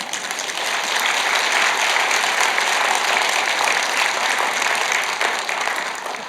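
A church congregation claps steadily at a pastor's retirement service, sustained applause filling the room with no break.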